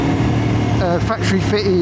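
An Aprilia Tuono V4 1100 Factory motorcycle with an Aprilia exhaust running without its baffle, idling with a steady low engine rumble close by under someone talking loudly over it.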